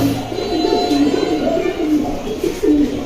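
A pet pigeon coos close by in soft, repeated rolling coos, a low throaty murmur that rises and falls in a steady rhythm over a few seconds.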